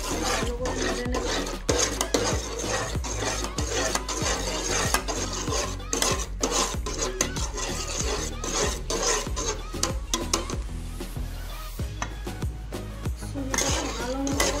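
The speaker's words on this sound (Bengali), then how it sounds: "সুজিটাকে ভালো মতো করে নেড়ে নিতে হবে।" Semolina cooked with milk is stirred hard in a pan, giving rapid rhythmic scraping and rubbing of the spoon against the pan throughout, close and steady.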